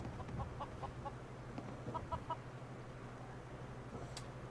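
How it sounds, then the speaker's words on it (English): Chickens clucking in a game world, several short rhythmic clucks in small bursts over a steady low hum, fairly faint and with no speech. "Ash Cole T. Said, my ear is now desensitized to chicken clucks."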